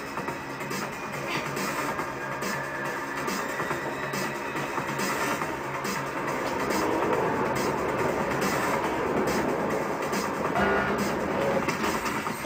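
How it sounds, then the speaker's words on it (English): A train in the video game Mirror's Edge rumbles and clatters past in a continuous, even roar that swells slightly toward the later part before ending in a sharp click. "Good, there was a train behind me."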